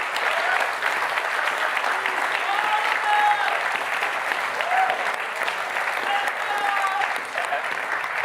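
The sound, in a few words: audience applause at award ceremony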